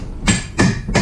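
Three light hammer taps on a wheel part during wheel removal on a 2008 Suzuki GSX650F motorcycle, evenly spaced and close, with no talking.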